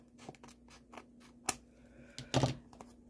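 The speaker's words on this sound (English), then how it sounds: "I'm actually going to cut right on top of the vellum." Scissors snip through vellum and cardstock with a few light, crisp cuts, the sharpest one midway and a longer rustling cut near the end, quiet and close with small papery ticks between.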